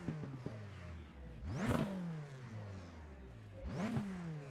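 Turbocharged Ford EcoBoost engine in an iRacing race car revs up hard twice, rising pitch sweeping upward then falling away between bursts, loud and close with no talk.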